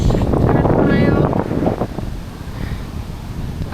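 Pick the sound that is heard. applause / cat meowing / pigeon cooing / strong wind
strong wind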